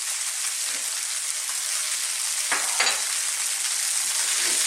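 Bean sprouts with garlic powder, pepper and salt frying in a pan give a loud, steady hissing sizzle, broken by a couple of brief utensil scrapes midway as they are stirred, with no speech.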